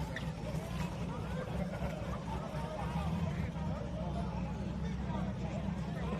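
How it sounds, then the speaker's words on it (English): Cammed El Camino engine pulling out at a drag race, a steady loud rumbling idle and revving under crowd babble and talk, continuous throughout. "Man, this car is just camming pulling out"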